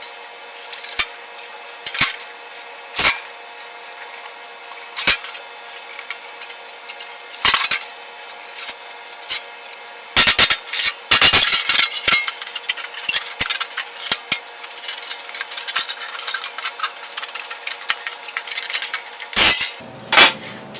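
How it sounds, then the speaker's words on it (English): Metal snips cutting through four layers of 24 gauge sheet metal flue pipe for a wood furnace, a steady series of sharp clicking snips and scraping rasps that crowd together into dense, loud cutting midway, alone without speech. "You can tell 24 gauge is tough to go through, especially whenever you've got 4 thicknesses right here to cut."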